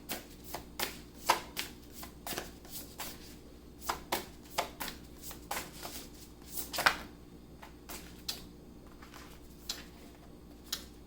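Tarot cards being shuffled by hand, a quiet, close series of crisp riffling snaps and soft slaps in an irregular rhythm, alone without talk.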